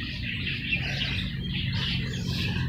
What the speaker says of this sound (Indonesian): Ini suara burung-burung, kicauan para burung.